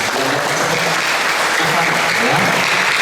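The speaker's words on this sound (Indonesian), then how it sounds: "luar biasa. Tepuk tangan." Congregation applause during a Sunday Mass, loud sustained clapping from many people filling the church at an even level throughout, with faint voices murmuring underneath.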